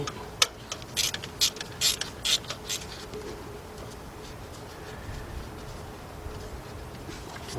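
Ratchet loosening a 1/4 inch drive bolt during an engine replacement on a 1999 Dodge Dakota Sport with a 3.9 engine: a quick run of sharp clicking pawl bursts, close and fairly loud, then quiet shop background.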